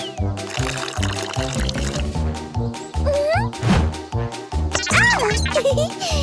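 Water poured and stirred together in a children's cartoon about construction vehicles, heard as splashy liquid pouring under a bouncy music score with whooshing effects, loud and busy throughout.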